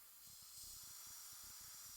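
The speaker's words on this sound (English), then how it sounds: "Just spraying with air to make sure it works." An airbrush sprays plain air as a test while painting Tyranid miniatures, a steady close hiss held for about two seconds with faint low bumps beneath it.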